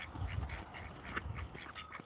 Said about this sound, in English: Ducks fighting.